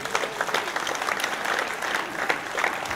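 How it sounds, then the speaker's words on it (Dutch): Thunderous applause from a theater audience at Theater de Muze after a comedy show, a dense crackling roar of many clapping hands that swells and pulses throughout. "Een daverend applaus."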